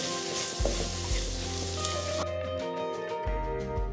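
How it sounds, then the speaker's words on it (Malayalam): Prawn roast masala for an Alleppey-style chemmeen roast sizzles steadily in a pan as it is stirred, a close, continuous frying hiss with occasional scraping, and no talking. "എന്നിട്ട് നന്നായിട്ട് മിക്സ് ചെയ്ത് കൊടുക്കാം."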